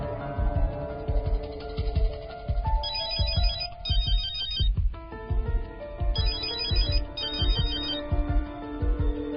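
A phone ringtone rings repeatedly and goes unanswered, a bright electronic melody that repeats in bursts against a background of low rhythmic music, fairly loud and with no voices.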